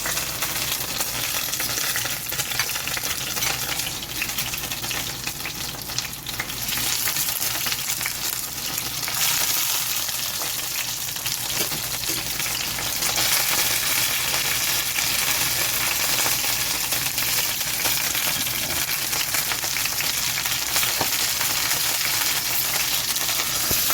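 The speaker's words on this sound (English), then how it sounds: "And I fry these mushrooms." Battered mushroom tempura pieces deep frying in hot oil, with a dense, continuous crackling sizzle that swells and eases slightly as pieces are added and turned, and no voices.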